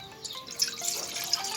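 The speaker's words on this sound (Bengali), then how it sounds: "কড়াই বসিয়েছি, এবার দেব পানি।" Water splashes and trickles steadily into a kadai, a wok-like pan set on the stove for boiling rohu fish. The close liquid wash has small drips, over about a second and a half.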